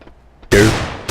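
Gunfire in Counter-Strike: Global Offensive, one sudden loud shot that bursts in after near-silence and rings out briefly, with a second shot starting at the end.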